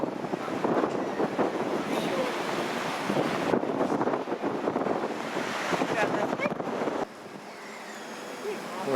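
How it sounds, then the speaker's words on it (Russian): Strong southwest wind on a stormy seafront at Gelendzhik, buffeting the microphone in loud, ragged gusts with a rushing roar underneath, easing somewhat near the end; a voice speaks intermittently over it. "Ветер юго-западный, сильный."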